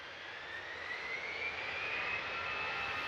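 An EasyJet Airbus A320 jet departs Manchester Airport for Barcelona, a steady broad engine roar with a faint rising whine, sustained and fairly distant, with no voices.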